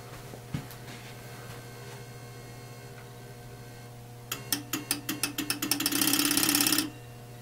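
A Pinbot pinball machine powered on gives a constant low electrical hum, then a quickening run of sharp mechanical ticks and clicks that merges into a brief loud buzzing burst before the hum returns.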